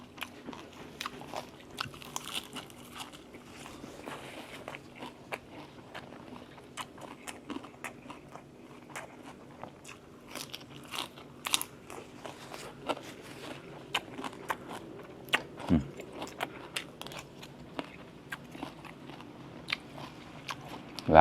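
Deep-fried battered bottle gourd crunched and chewed up close, a long run of crisp, irregular bites and crackles with no talking.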